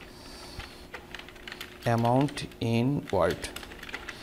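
Fingers tap on a computer keyboard while a voucher is built in PowerPoint, soft quick clicks running under a voice speaking in Bengali.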